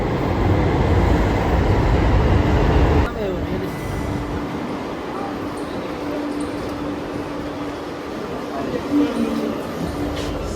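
Delhi Metro train ride, heard from inside the carriage: a steady, loud rumble with a sustained motor whine that settles into a quieter, even hum after a few seconds, with no clear talk.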